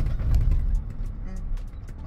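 A Roush Ford F-150 pickup truck rolling over speed bumps, with heavy low rumbling and thumps from the cab interior and a few light rattles as it passes over them.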